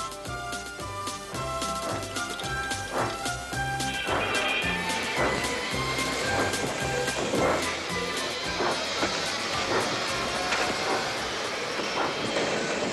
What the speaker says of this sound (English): Donald and Douglas, puffing hard, managed to haul Thomas back to safety